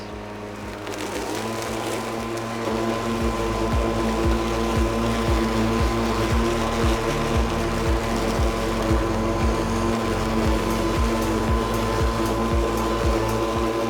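A Kress 40V battery electric lawn mower with a 41 cm deck spins up its blades and holds a steady, close electric motor hum with a regular low pulsing throb while cutting grass, and no one speaks.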